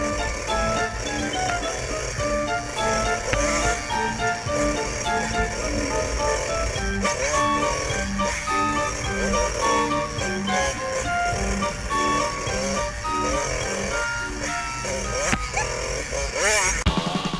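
A motorcycle fitted with an FMF Gnarly exhaust circles a small loop. The engine drones loud and steady throughout, its pitch rising and falling as it rides around.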